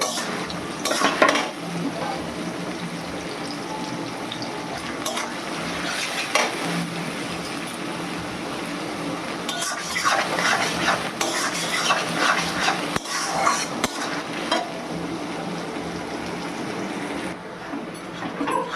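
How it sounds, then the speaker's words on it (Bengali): Chopped onion sizzles steadily in a pan while a metal spatula scrapes and clinks against it in repeated stirring strokes, close and continuous with no talking. "পেঁয়াজটা ভাজা হয়ে গেছে।"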